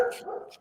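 A dog lets out a short, close bark, a brief yip trailing into a whimper-like tail, quick and fairly loud.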